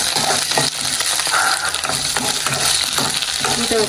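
Ginger and garlic fry in a pan for a goat leg soup, a loud, dense sizzle heard up close with faint stirring scrapes.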